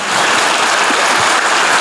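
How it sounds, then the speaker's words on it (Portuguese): Church congregation applauding together, a steady dense wash of clapping that stays loud and even throughout. "Vamos aplaudir as nossas psicólogas aqui na igreja."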